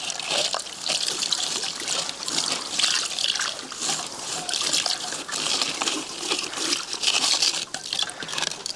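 Fresh water trickles and splashes steadily over filtered clay, a close, continuous watery patter with small gushes and no voices.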